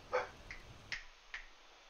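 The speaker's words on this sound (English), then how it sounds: "apologies if there was some barking in the back there." A few short, faint dog barks or yips spaced out over two seconds, distant and quiet in the background of a Hogwarts Legacy game session, against a soft background.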